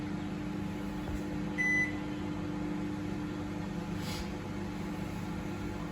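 An IFB 30BC5 microwave oven runs with a steady, fairly loud hum and fan whir throughout, broken by a single short control-panel beep early on and a faint brief click later.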